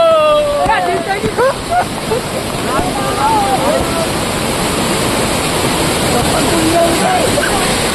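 The strong Amboli waterfall gushes in a loud, steady roar that fills the whole clip, with a voice talking over it at the start.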